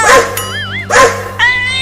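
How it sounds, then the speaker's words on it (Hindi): A big cartoon dog barks in two loud, close yelps about a second apart, with a whining tonal sweep between them and another sustained whine at the end, over a steady low hum. "अरे पीछे वो बड़ा कुत्ता हमें काटने के लिए आ रहा है"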